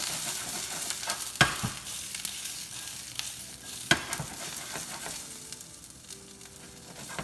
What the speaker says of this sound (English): Just let it saute, get pretty and brown as well.